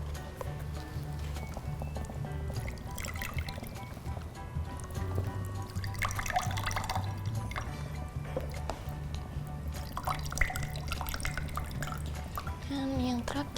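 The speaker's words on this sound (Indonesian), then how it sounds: "Kak Dona akan menuang air kelapa ke 4 gelas ini sama rata" Coconut water trickles and splashes into four glasses in a few pouring spells, with gurgling fills rising in pitch near the end, close and fairly quiet against a low steady hum.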